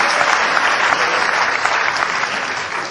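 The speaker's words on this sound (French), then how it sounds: "C'était là qu'il fallait applaudir." Audience at a live comedy show bursts into loud, dense applause that stays steady for a few seconds, clapping close and full with faint crowd noise beneath.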